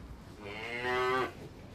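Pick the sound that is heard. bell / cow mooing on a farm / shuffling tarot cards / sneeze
cow mooing on a farm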